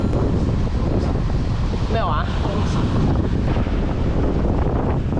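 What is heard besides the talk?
easterly wind blowing on a fishing boat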